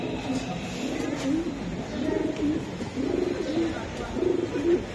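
High-flying giribaz racing pigeons coo in repeated soft, throaty rolling calls close by, with a voice talking intermittently in the background.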